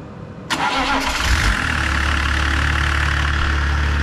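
A BMW 325 TDS diesel with an aluminium engine cranks and catches at once, then settles into a steady, close idle that holds loud and even to the end.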